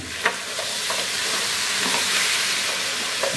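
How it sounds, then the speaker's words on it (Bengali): Spices braising with yogurt in a pot for biryani give a steady loud sizzle and hiss, broken by scraping stirs of a spoon, close up and with no talking. "আমি এর মধ্যে দিয়ে দিব আধা কাপ টক দই দিয়ে এটাকে মিনিট 2 ভুনে নিব"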